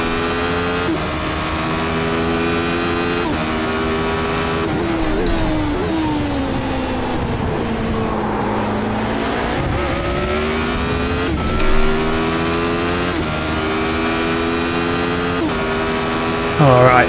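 A Radical SR8 race car engine wails and revs through gear changes on the Imola circuit in iRacing, loud and steady with pitch sweeps up and down and brief dips between shifts.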